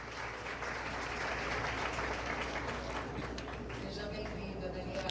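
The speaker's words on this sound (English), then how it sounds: "I like to call on to the stage in a round of applause" A conference audience at a women entrepreneurs' forum claps for a panel speaker being welcomed on stage, a steady, dense wash of applause at moderate distance lasting throughout.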